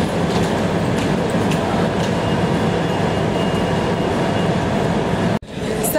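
A London Underground train runs through a station with a continuous loud rumbling roar and rattling wheels, ending in an abrupt cut.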